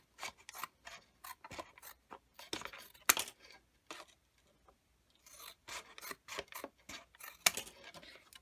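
Scissors snip through plastic plant markers in quick bursts of crisp cuts, close by and alone, with brief pauses between runs of snipping.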